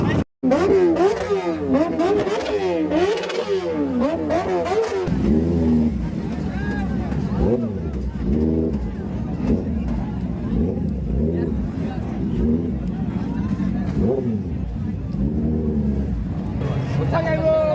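Superbike engines, including a BMW S1000, rev and accelerate close by at an Independence Day group ride. The engines rise and fall with a steady roar, and a crowd and voices chatter through the noise.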